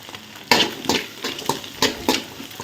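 Onion and green chili are stirred with egg in a pan, a utensil scraping and clacking in a loose rhythm of about six strokes over a soft sizzle, close and clear without talk.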